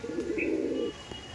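A Madrasi pigeon gives a single close, soft cooing phrase lasting under a second, followed by quiet background.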